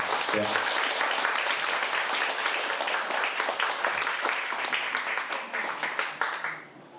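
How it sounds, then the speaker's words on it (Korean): An audience gives warm, sustained applause to welcome an herbal medicine doctor to a lecture, steady dense clapping that fades toward the end after a short spoken moment at the start. "오늘은 올바른 우리 몸 사용법이라는 주제로 강의해 주실 조정현 한의사님을 뜨거운 박수로 모시도록 하겠습니다."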